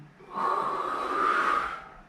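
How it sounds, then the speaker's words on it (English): A person draws a long, audible breath in through the nose during a hip and ankle mobility exercise for surfing, one close, rushing inhale lasting about a second and a half. "And again, breathing in"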